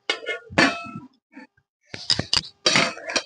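A metal lid clangs down onto a wok (kadai) of water used to steam taro flowers: a few loud, sharp metallic knocks and rattles near the microphone, separated by short silences, with no talking.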